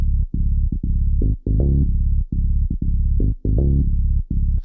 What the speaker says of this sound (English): I made the bassline with a sample.